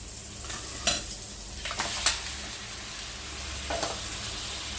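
Chicken cooking in a masala in a hot pan sizzles steadily while a utensil stirs it, with a few sharp scraping clatters against the pan and no talking.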